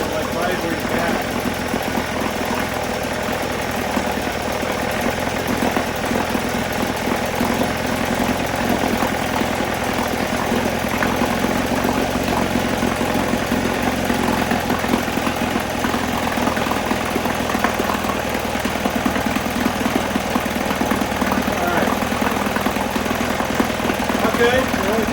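A 1977 Johnson 9.9 electric-start outboard motor runs steadily without cooling water, giving a loud, even, close-up drone with a buzzing, rattly texture that holds throughout.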